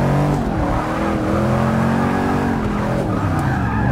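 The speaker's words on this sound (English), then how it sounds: "I can't believe this man's actually drifting this shit in front of us" A Holden VL Commodore on drag tires drifts through a Forza Motorsport 6 online lobby, its tires squealing and skidding continuously over a loud, steady engine roar that rises and falls with the throttle.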